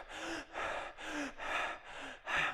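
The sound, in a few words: forced deep rapid breathing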